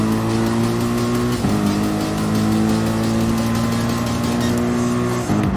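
Race car engines roar in Gran Turismo Sport, a loud sustained high-revving drone with gear-change dips near the start and end, steady and close throughout, with faint tire noise and no talking.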